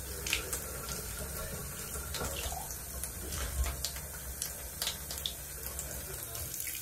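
Warm water runs from a tap into a bath for a savannah monitor, a steady, faint splashing and gushing with occasional louder splashes and no clear talk.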